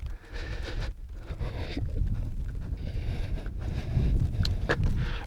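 Gusty wind outdoors at an RC model flying field before a maiden flight of an FMS Fox 3000mm glider, steady low rumble buffeting the microphone throughout with faint footsteps and brief louder gusts.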